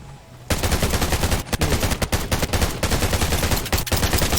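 Rapid bursts of automatic gunfire in the survival shooter Undawn, starting abruptly after a quiet half second and continuing in loud, dense volleys with a few brief pauses.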